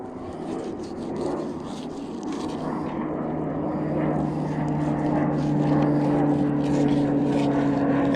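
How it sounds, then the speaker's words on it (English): A propeller airplane drones overhead outdoors, its steady engine hum and whine holding throughout and growing slightly louder toward the end. "Here's an airplane."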